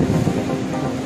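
Fast-flowing Tungabhadra river water, rushing after the dam upstream was opened: a loud, steady, close broadband wash that does not change across the moment, with no voices.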